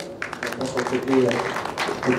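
An audience applauds at a conference debate on institutions and economic growth in Mali: a steady wash of clapping lasting a couple of seconds, with voices mixed in underneath.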